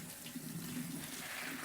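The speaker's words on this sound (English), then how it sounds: "we rinse these because sometimes they have a little bit of layer of dust on them" Dry beans are rinsed under a running kitchen tap, a steady close splash of flowing water that lasts the whole short moment without any voice.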